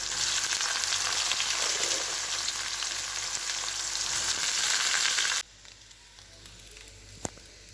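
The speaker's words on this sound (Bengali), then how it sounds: "আলুগুলো ভাজা করব" Boiled potatoes frying in hot oil, a loud, dense, steady sizzle close by for about five seconds that cuts off abruptly, leaving a quiet room with a single faint knock.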